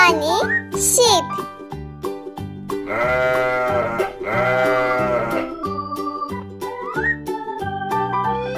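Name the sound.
sheep bleating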